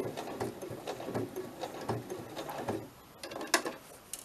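Sewing machine running at slow speed, a soft, uneven run of needle thumps that stops near the end, followed by a few faint clicks and taps, quiet and close with no talking.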